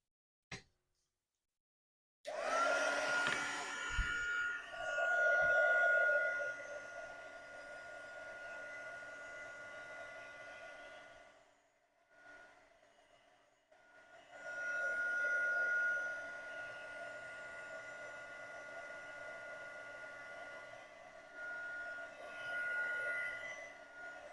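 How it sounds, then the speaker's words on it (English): A heat gun blows over a junk journal page with a steady, loud whirring hiss, pausing briefly midway and then starting again, close and without talk. "Let me hit it with the heat gun real quick."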